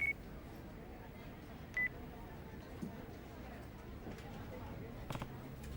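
A payphone rings in the video game Yakuza 5 Remastered, sounding as two short electronic tone bursts over a low, steady background of game ambience.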